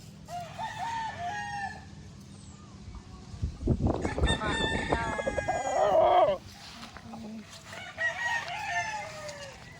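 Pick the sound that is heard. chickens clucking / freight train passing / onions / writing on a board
chickens clucking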